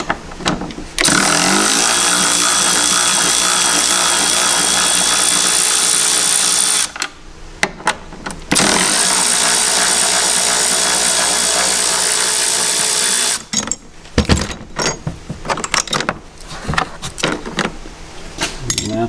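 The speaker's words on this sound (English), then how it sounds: "pulling the last of these tie-down hooks out using my new" A Milwaukee Fuel cordless ratchet removes tie-down hook bolts from a 2022 Ford Bronco WildTrak, whirring loudly and steadily in two long close-up runs separated by short pauses, followed by lighter clicks and handling noises.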